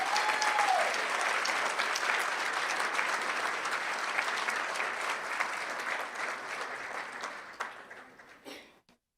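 A school board meeting audience gives sustained applause to honor a student athletic trainer program. The dense clapping starts strong, then thins and tapers off near the end to a few scattered claps before falling quiet.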